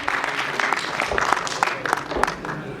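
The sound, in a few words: audience applause at an awards ceremony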